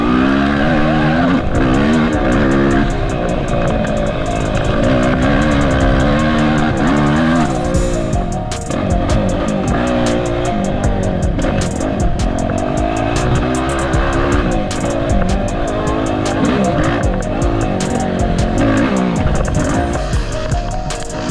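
A dirt bike engine revs hard throughout a GNCC off-road race at Hoosier, loud and close, rising and falling through gear changes with steady throttle, no talking.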